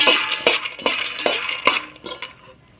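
Okra and garlic frying in a pan while being stirred, with a run of sharp, rhythmic scrapes and clinks of the spoon about every half second over a low sizzle, close and loud.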